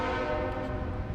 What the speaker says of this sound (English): So I'm about 50 yards from a train track right over here.